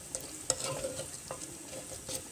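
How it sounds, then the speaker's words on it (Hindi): Tomatoes with salt, crushed chilli and turmeric frying in a pan for chicken handi: soft sizzling under a few quick spoon scrapes and light clinks against the pan, close and fairly quiet, with no talking. "ज़रा से इसको भूनने के बाद"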